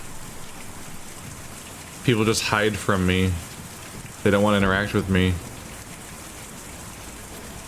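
Steady rain falls in Kentucky Route Zero, a constant soft hiss across the whole stretch while someone speaks calmly over it in two short bursts.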